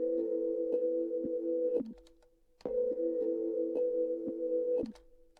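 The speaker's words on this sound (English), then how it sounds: "This reverse effect is controlled through this automation clip." A trap beat drum loop with a reverse effect switching on and off: sustained tonal swells with tick-like hits that cut off abruptly, drop to near silence, then return, repeating twice.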